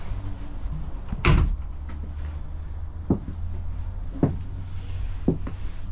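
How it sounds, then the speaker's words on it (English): A sliding door inside a motorhome rolls and thuds shut, one loud knock followed by several lighter clicks and bumps spaced a second or so apart, close by in a quiet interior, with no voices. "And a sliding door so you can close off for privacy."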